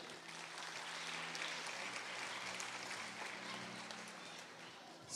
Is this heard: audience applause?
yes